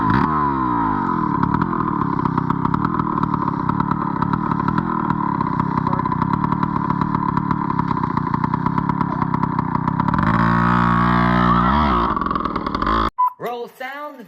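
Dirt bike engine running close by, a steady buzzing drone with rapid firing pulses that shifts pitch near the end as it revs, then cuts off abruptly with a brief clatter.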